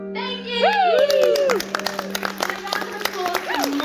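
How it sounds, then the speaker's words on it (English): Live audience at a comedy song show applauds and cheers after a performance, with handclaps and loud whooping, high-pitched voices rising over a dense, close crowd for several seconds. "Round of applause for my daddy issues."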